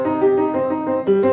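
Piano playing a Bach Little Prelude with every contrapuntal voice deliberately brought out, sustained overlapping tones in a short, steady, close passage with no talking.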